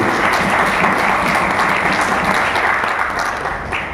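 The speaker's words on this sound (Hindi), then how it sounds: "एक बार जोरदार ताली मेरी टीम के लिए।" A live audience at a direct-selling achievers' celebration bursts into loud, sustained applause for a team, dense clapping filling the whole stretch before easing slightly at the end.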